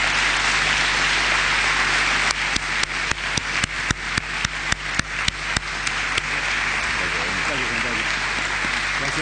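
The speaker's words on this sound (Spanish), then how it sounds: "Así que quiero que los recibamos con un fuerte aplauso a mi amigo Daniel Altare." A congregation applauds to welcome a guest at an evening Christmas church gathering, starting with a steady wash of clapping and swelling into a burst of sharper, louder individual claps near the middle before settling back, with voices underneath.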